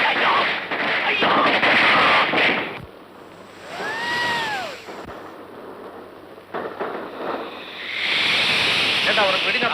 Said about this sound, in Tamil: ஏண்டா உனக்கு வெடினா பயந்துட்டா?